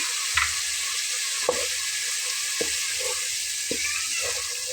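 Cubed tomato fries with a spiced meat masala in a pan, a constant loud sizzling hiss broken by a few soft stirring scrapes at close range.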